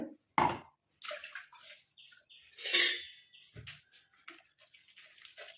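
Juice from ground ingredients is strained through a kitchen filter, giving short bursts of pouring and dripping liquid, close and fairly quiet, with no talking.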